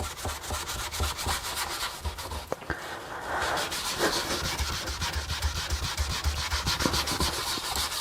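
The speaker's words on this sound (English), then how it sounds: "The Dry Moly Lube takes a lot of rubbing" A cloth rubs Dry Moly Lube off laser-engraved metal in a steady, rapid scrubbing rasp that runs throughout, close and fairly loud, with no talk.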